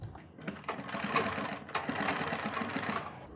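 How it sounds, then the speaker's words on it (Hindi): Sewing machine stitching fabric to attach a boat-neck blouse piece, a steady rapid mechanical chatter in two runs with a brief pause between, close and moderately loud. "तो हम यहाँ पर इसे सिलाई मारकर पहले नीचे की तरफ से अटैच करेंगे"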